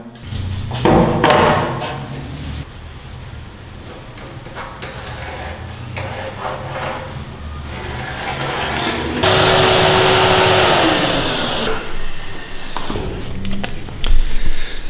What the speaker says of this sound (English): Okay, so that's the first cut along the diagonal down here.